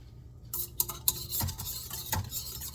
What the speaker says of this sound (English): I'm gonna stir it, then I'm gonna let it sit for 10 minutes